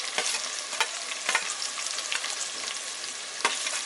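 Capsicum, onion and carrot stir-fry in hot oil for homemade veg chowmein, giving a loud, continuous hissing sizzle broken by a few sharp scrapes as the pan is tossed, with no talking.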